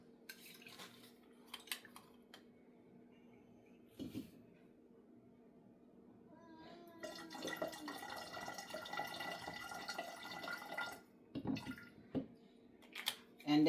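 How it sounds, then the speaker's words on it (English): Port wines being poured and mixed into a small bottle while making Jamaican Christmas fruit cake; faint clinks and liquid trickling, with a denser pouring stretch midway, heard close with no talking. "So I'm going to just mix a little bit of each, and then I will pour over my cakes."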